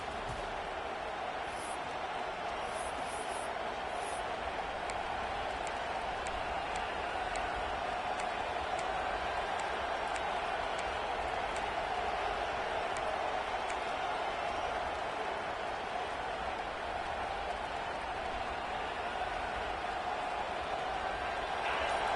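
A stadium crowd in an American football video game sends up a steady, fairly faint wash of cheering and murmur, holding at an even level throughout with no clear talk over it.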